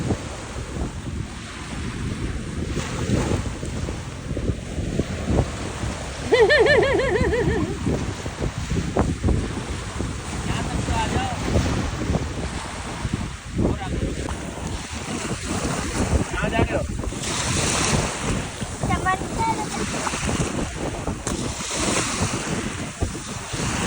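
Sea waves and gusty wind at night on the shore at Rameshwaram, a steady rushing roar of surf and buffeting wind noise with faint voices now and then.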